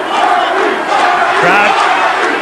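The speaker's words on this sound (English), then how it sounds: "Crowd vociferously chanting Gary, Gary." Boxing crowd at an IBF junior welterweight title fight chanting the challenger Gary Hinton's name, a loud, sustained roar of many voices with rhythmic chant swells filling the arena.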